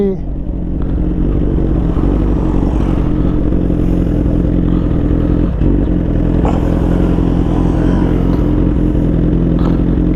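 Suzuki GSX-R1000 sport bike engine running steadily while riding, a continuous loud low drone with slight rises and falls over ten seconds, a few clattering knocks mixed in and a voice talking over it.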